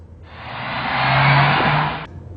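The turbocharged engine of a Nissan Juke revs up with a slightly whiny tone, a close, steady rush that swells for about two seconds before cutting off sharply.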